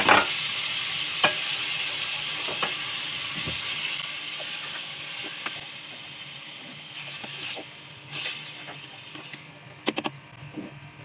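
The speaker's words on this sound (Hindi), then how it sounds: "तेल डाला है अभी तेल देखें गरम हो रहा है अब रिवर्स देखें इसमें ये पूरा कीमा जा रहा है" Minced mutton keema frying in hot oil in a pan, a steady close sizzle and hiss with occasional scrapes and taps of stirring, no talk.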